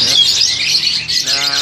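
A locally bred Hong Kong myna calls at close range, a loud run of bright chirps and whistles that stays steady without a break for the whole moment.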